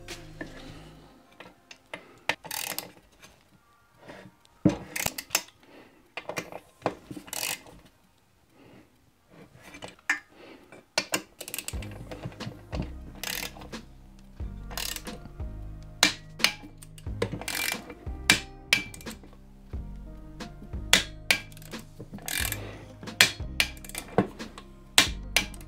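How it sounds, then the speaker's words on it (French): Screws on a crankshaft cover are driven in a star pattern and torqued to 13 Nm with hand tools, giving a string of sharp metallic ticks and clicks in irregular bursts. The clicking is close and continuous, with no talk. "On va d'abord visser les unes après les autres,"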